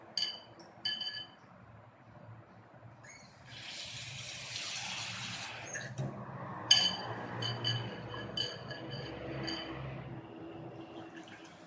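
Tamarind water is poured into a fish curry in a Tamil Nadu kitchen: a soft, splashy liquid pour swells in the middle, framed by a few faint clinks of glass or utensils, all quiet and close.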